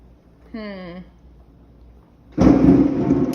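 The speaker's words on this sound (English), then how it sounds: "You guys heard that lightning?" Thunder from a lightning strike cracks in and rumbles loudly and close, following a brief spoken voice a moment earlier.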